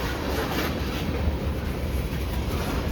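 A KCS manifest freight train rolls past at close range, a continuous loud rumble with a steady clatter of railcars and no voices.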